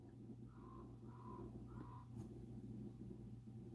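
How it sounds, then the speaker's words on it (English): A raven calls outdoors, three hoarse croaking caws in a quick row, faint and distant over a steady low rumble of background noise, with no talk. "Did you hear the raven?"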